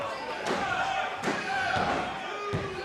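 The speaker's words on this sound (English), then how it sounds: "Animo rolls through the shotgun drop kick" A wrestler's shotgun drop kick lands in a ring during a live match, giving a few dull thuds and slams heard under an excited commentator's voice and a crowd murmuring behind.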